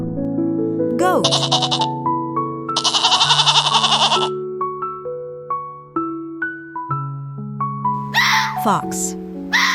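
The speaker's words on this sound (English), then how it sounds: "goat" A goat bleats among a string of other animal calls, with loud harmonic bleats and cries separated by brief pauses, alongside melodic tones and a busy, layered mix.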